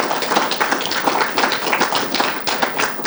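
An audience at a forum gives a brisk round of applause, many hands clapping densely and close for the whole stretch, with no talking.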